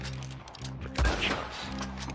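Gunfire in the online Western shooter Red Dead Online: a loud close shot bursts out mid-clip over a busy game soundscape with rapid crackling shots around it, and no one speaks.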